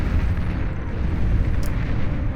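Rocket explosions pounding a base in the real-time strategy game Beyond All Reason, a dense, continuous rumble of overlapping booms and blasts, loud and steady throughout with no talk.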